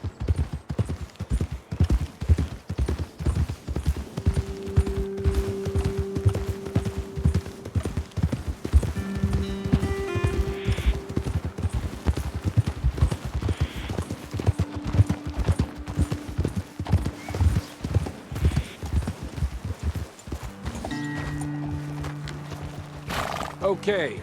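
Horses clip-clop along a trail in the Red Dead Redemption 2 game world, a steady rhythmic hoofbeat close by with snorts and occasional whinnies, while voices talk over it and music tones drift underneath.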